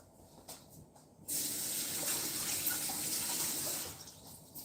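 Tap water runs steadily into a kitchen sink while something is rinsed off during burger patty and meatball prep, a strong, even gush that starts after a quieter opening moment and holds close by without any talk.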